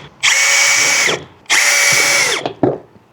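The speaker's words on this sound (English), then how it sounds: "I'm going to drill, and I'm going to use a 3/16 drill bit." A power drill fitted with a 3/16 bit whines loudly in two long bursts of about a second each while drilling marked holes for a smart sprinkler controller install, then gives a short final blip, all close-up with no talking.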